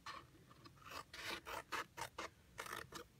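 Scissors trimming paper for a Stampin' Up! Thanksgiving thank-you box, heard as a handful of soft, close rasping snips in quick succession, faint and alone.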